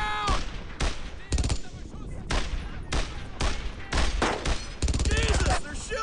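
Gunfire in the World War II shooter Brothers In Arms: Earned In Blood, with bursts of rifle and machine-gun shots in irregular volleys, loud and close.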